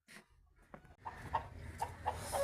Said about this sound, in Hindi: अभी जी ये हमने पकड़ा है मुर्गा।